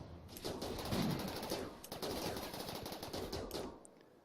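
Rapid video-game gunfire from colonists and snipers in Rimworld, a dense rattle of overlapping shots running steadily for several seconds at moderate volume with no talk over it.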